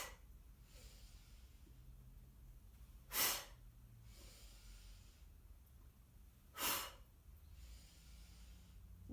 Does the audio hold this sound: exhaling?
yes